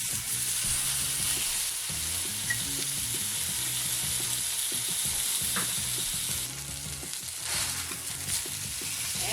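Meat sears loudly in butter over high heat, a dense continuous sizzle that fills the whole stretch with only slight dips, close and steady with no voices over it.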